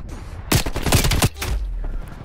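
Gunfire in Call of Duty Black Ops Cold War on the Nuketown Holiday map: a loud, close burst of rapid automatic shots lasting under a second, then a quieter rumbling tail.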